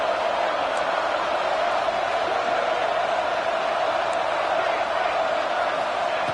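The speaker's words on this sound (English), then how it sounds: "this home crowd is fired up and ready to make a difference today" Steady roar of a home stadium crowd in a college football video game, a continuous loud wash of cheering held at one level throughout with no gaps and no voices standing out.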